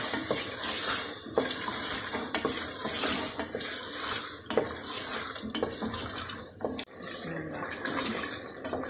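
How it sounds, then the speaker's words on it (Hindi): Chicken fries and gets stirred in a pan with spices. Steady sizzling runs under repeated scraping and clinking of a utensil against the metal, close and continuous. "मैं चिकन भून रही हूँ अच्छी तरह।"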